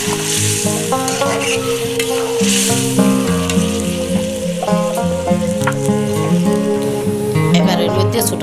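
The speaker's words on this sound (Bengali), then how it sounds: "এবার তেলের মধ্যে সবজিগুলিকে ঢেলে দেব।" Mixed vegetables are tipped into hot oil seasoned with cumin seeds for a five-vegetable Bengali dish, and a loud, steady sizzle of frying rises and holds. Background music plays throughout.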